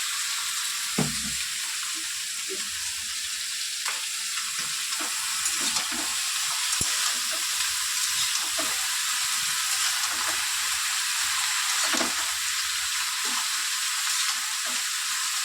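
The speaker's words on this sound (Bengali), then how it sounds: "দিয়ে ভালো করে নেড়ে চেড়ে গ্যাস কমিয়ে কমিয়ে রান্না করবো" Fish sizzles steadily in a pan while a utensil scrapes and knocks against it at irregular intervals, close and fairly loud, with no voices.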